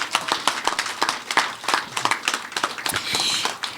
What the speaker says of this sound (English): So a big round of applause for everybody that had a hand in it.